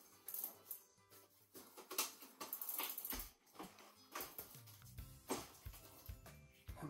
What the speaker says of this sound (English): Hook the chain over the cassette.